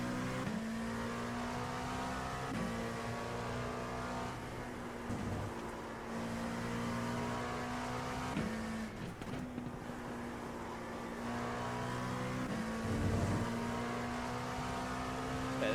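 A GT3 race car engine drones steadily at high revs with periodic gear shifts and brief dips, heard from inside or close to the car during a race, loud and continuous with no talk.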